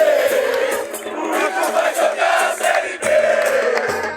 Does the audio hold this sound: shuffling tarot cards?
no